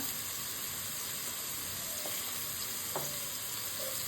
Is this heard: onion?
yes